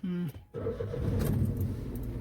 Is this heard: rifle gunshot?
no